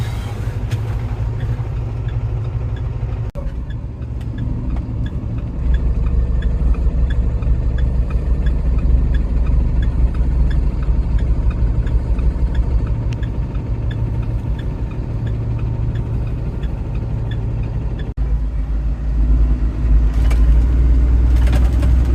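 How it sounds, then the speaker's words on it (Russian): A car driving through busy Manhattan traffic, a steady low engine hum and road rumble from inside the cabin, with no talking. "столько машин, столько трафика"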